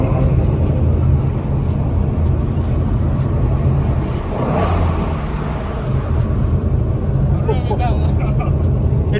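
Ford Mustang GT350 engine downshifting: a loud, steady engine roar with a brief blip and rise in revs midway, a close, continuous drone under faint voices.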